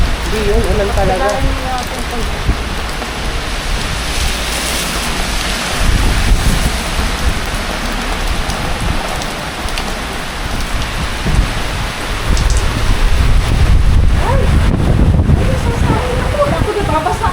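A heavy storm downpour drums steadily and loudly with gusts of wind and a deep rumble swelling near the end, with voices speaking under the rain.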